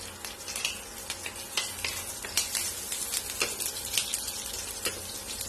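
Curry leaves crackle and sizzle in hot oil, with sharp popping spatters over a steady frying hiss, close and fairly quiet.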